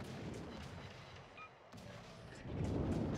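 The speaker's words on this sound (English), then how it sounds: "Stalingrad is under heavy fire." Heavy naval artillery from ships in the game World of Warships, a Tier 10 clan battle, with a steady rumbling barrage and deep booming salvos that swell louder near the end, over a dense battle background.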